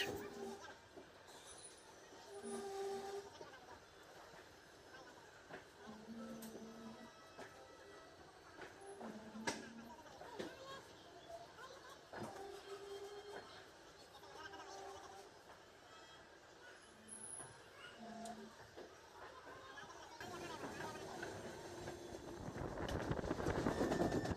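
A passenger train runs after leaving Anand Vihar station, a faint steady rumble with soft clattering and occasional squeaks that swells louder toward the end, with someone talking over it.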